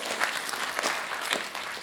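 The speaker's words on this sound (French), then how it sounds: "Applaudissez pour blanc autour." Audience applause at a children's book award ceremony, a brief burst of dense, lively clapping heard close and continuous throughout.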